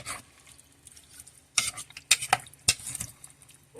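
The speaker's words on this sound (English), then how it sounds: "Just want to mix that up and get everything coated." A utensil stirs cucumber salad with dill in a bowl, with soft wet swishes and a few sharp clinks and scrapes against the dish, close and alone.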